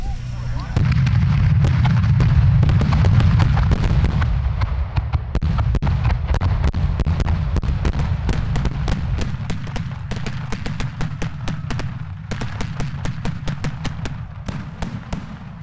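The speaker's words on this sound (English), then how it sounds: "Another group donating fireworks is Dr. X, known for making earth-rattling salutes." Booming firework salutes from a Florida pyrotechnics guild event, fired in a fast, dense barrage of sharp loud blasts with heavy low rumble, continuing steadily for the full stretch with crowd noise underneath.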